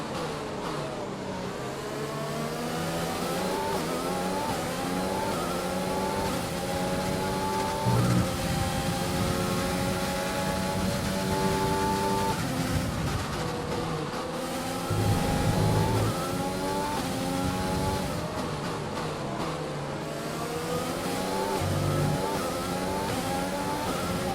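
Formula 1 race car on soft tyres in the F1 2020 video game at the USA round, its high engine whine holding loud and steady with rising and falling pitch as it shifts through gears, briefly dipping and recovering.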